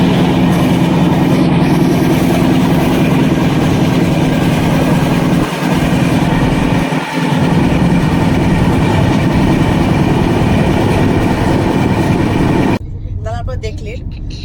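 A passenger train runs past Chilka Lake at dusk, heard from inside as a loud, steady rumble with rattling carriages. Two brief low thumps break through midway, and the noise drops abruptly near the end.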